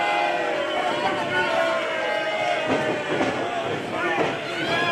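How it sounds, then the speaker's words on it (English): A wrestling crowd at an AIW Intense Championship match jeers Derek Dillinger, a continuous roar of many voices with rising and falling chant-like swells filling the arena. "This crowd really letting Derek hear how much they love him."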